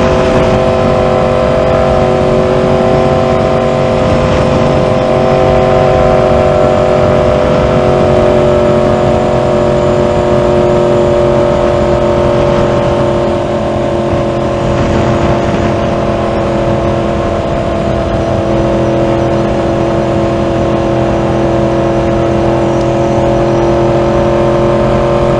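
A motorcycle engine running loudly up close, droning steadily and revving through smooth acceleration for the whole stretch.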